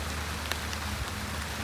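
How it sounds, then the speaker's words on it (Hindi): Heavy rain pours on a marigold farm, a dense steady hiss with a few sharper drop hits and a low rumble underneath, fairly loud and without talk. "काफ़ी तेज देखिए बारिश आ गई है"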